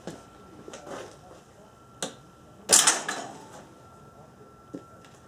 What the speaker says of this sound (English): This machine is currently cocked, which is why I'm a little bit careful where I'm standing on it. I'll release it